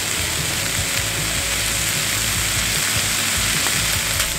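Meat being sautéed in a pan over medium heat for Japanese curry rice, a loud, continuous hiss of frying that runs evenly throughout with no pauses and no talking.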